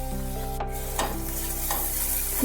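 Okra frying in a pan with chopped tomato and Kashmiri chili powder, a steady close sizzle broken by a few scraping stirs, with a low tonal hum running underneath.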